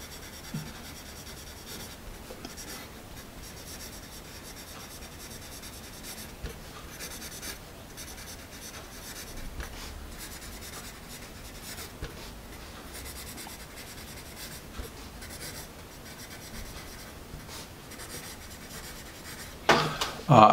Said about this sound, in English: it is a nice writing pencil.